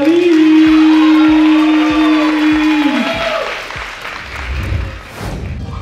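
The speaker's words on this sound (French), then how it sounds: "Un tonnerre d'applaudissements pour Walid!" Loud audience applause rings out for a young performer named Walid at a recitation contest semi-final, a steady wash of clapping that fades toward the end while a sustained tone and a few low thumps sit underneath.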